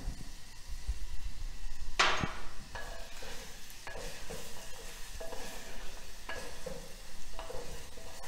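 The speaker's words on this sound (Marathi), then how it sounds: "फक्त त्याचा कच्चापणा दूर होण्यासाठी आपण हे परततोय।" Paneer handi ingredients sautéed in a pan to take off their rawness, with salt added, give a steady soft sizzle broken by repeated scraping stirs of a spoon against the pan and one sharp clank.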